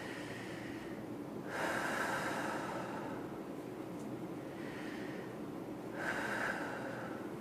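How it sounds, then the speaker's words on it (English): Two long, deep inhalations demonstrating breathing for singing, each a broad airy rush that swells and fades, close and fairly loud over a steady low background hum, with no talking. "When you inhale, you move your stomach muscles and your ribs out to make room inside your lungs for them to fill up with air"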